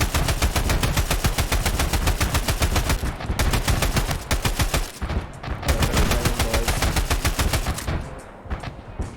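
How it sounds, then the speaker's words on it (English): A mounted machine gun in the game Escape From Tarkov fires long, rapid, continuous bursts of gunfire, loud and close, with brief pauses between strings of shots. "the mounted weapons on the military base are amazing, and they're extremely satisfying to use, even if you're just shooting at thin air"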